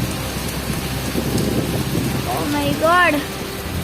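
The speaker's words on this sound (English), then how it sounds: "Here it's raining more heavily than our side." Heavy rain pours down as a dense, steady hiss throughout, with a person briefly exclaiming near the end over the downpour.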